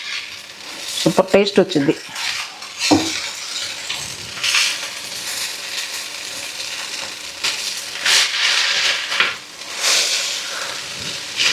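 Vegetable noodles frying and being stirred in a pan, a soft broadband sizzle with scraping stirs throughout, a voice speaking briefly near the start.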